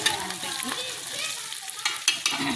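Onion being sautéed in a pan, a close, lively sizzle with spatula scrapes and stirring clinks breaking through in short bursts.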